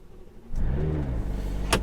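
A 2020 McLaren GT engine fires into a deep, loud rumble partway through and settles into a steady, close warm-up idle, with a brief sharper burst near the end.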